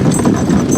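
Hooves of a draft horse team clip-clop steadily while logging in the woods on a bright, sunny winter day, a dense, continuous close thudding with no talk.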